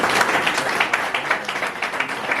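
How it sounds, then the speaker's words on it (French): A hall audience at a political party's launch event applauds loudly, a dense, continuous patter of many hands clapping throughout. "Je vous demande de l'applaudir très fort."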